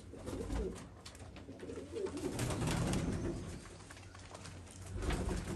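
Pigeons in a loft coo in a steady, overlapping murmur of low throaty calls, fairly close and continuous, with no voices.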